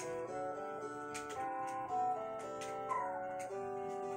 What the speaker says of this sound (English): So, these birds right here, these are chocobos.